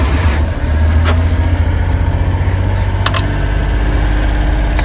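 A Honda Acty small truck engine idles steadily close by, a continuous low rumble with a faint rattle and no voices.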